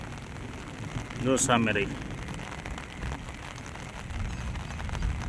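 Steady rain from the season's first heavy downpour over open farmland, a constant broadband hiss with a brief voice speaking over it.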